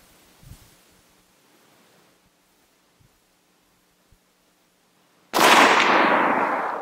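A single sharp, loud report from a .375 H&H rifle fired outdoors in wind with a 30 to 33 grain powder load. It follows several seconds of quiet rustling and leaves a long, fading decay.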